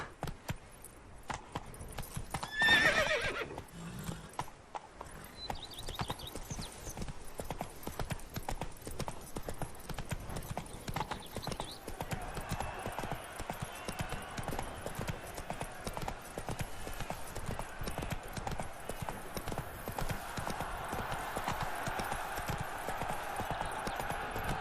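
A horse galloping in The Witcher 3, rapid rhythmic hoofbeats on the ground that keep up steadily under faint ambient game sound, with a short snort or whinny near the start.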